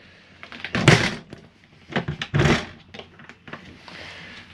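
The entry door of a Jayco Jay Flight SLX 174BH camper trailer is worked open and shut, giving two loud close thuds and rattles followed by smaller latch clicks and knocks.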